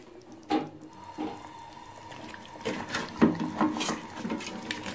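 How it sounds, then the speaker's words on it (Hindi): Yogurt is stirred into a pot of pulao biryani masala, giving soft wet scrapes and a few sharper clinks of a spoon against the pot, irregular and fairly close. "अब इसको अच्छे तरीके से मिक्स कर लूंगी मैं और साथ साथ आंच भी तेज कर दूंगी"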